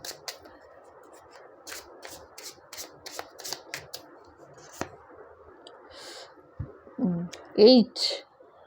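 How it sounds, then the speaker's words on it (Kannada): Tarot cards being drawn and handled from a deck, with soft repeated clicks and card slides near the mic, followed by a louder burst of shuffling and handling at the end. "ಇವಾಗ ನೆಕ್ಸ್ಟು ಇನ್ನೆರಡು ಕಾರ್ಡ್ ತೆಗೆದ್ಬಿಡೋಣ, ನೋಡೋಣ ಇನ್ನೇನು ಹೇಳ್ತಾರೆ."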